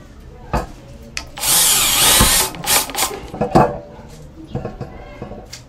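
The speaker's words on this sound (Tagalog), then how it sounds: "Self-drilling ng hard screw. Pero syempre talaga pang bakal to" A power drill drives a black self-drilling screw into hard material, a loud grinding whir lasting about a second and a half, followed by short scraping and knocking bursts.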